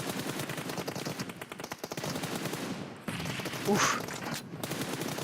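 Automatic rifle spray in the mobile game PUBG Mobile, a rapid rattling stream of shots nearly throughout, briefly pausing midway, with a short voiced exclamation over it.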